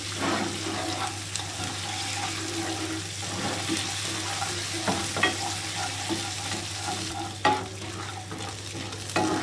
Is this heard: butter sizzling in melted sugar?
yes